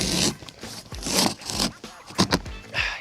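Thick cardboard of an e-bike box being cut open: a run of close scraping and tearing strokes in bursts, with brief sharp rips near the end, fairly quiet and with no talk.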